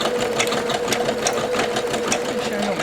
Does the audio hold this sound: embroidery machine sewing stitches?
yes